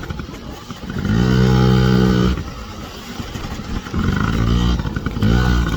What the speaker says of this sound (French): on fait un peu de moto et ça sera la fin